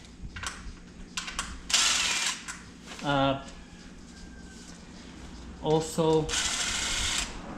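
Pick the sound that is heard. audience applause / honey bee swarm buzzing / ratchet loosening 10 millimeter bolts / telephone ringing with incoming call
ratchet loosening 10 millimeter bolts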